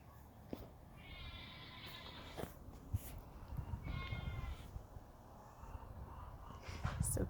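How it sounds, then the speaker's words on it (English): Neighbours' goats bleat faintly in the distance, with two wavering calls heard over quiet outdoor background noise. "You hear the goats?"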